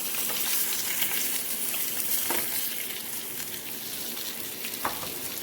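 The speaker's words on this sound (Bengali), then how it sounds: "এই তেলে আলুটা ভেজে নেবো" Potatoes fry in oil left over from frying fish, a continuous soft sizzle and crackle with a few faint stirring scrapes and no talking.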